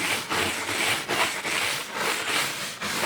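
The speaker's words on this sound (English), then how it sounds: "I'll have to scrub the tar pretty good." Steady back-and-forth scrubbing, close and loud, as tar and road grime are worked off a surface, the strokes forming a regular rasping rhythm roughly every quarter second with no talk.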